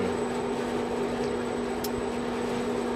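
A wood-fired kill-green tea processing machine oven ventilates with a steady, even whooshing roar and a constant low hum, continuous and close throughout.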